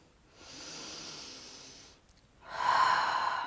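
Two slow, audible breaths taken while holding a Malasana yoga squat, a long exhale followed by a stronger, breathier inhale, close to the microphone and otherwise quiet.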